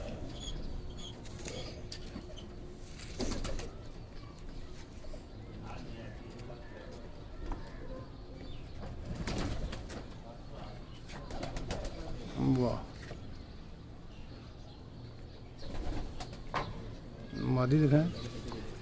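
Pigeons coo in soft, low bursts near the end, with rustling, wing flaps and background talk running throughout.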